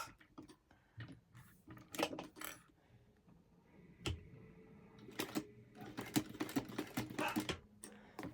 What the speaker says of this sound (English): stitching and then I'm going to back stitch a couple of times.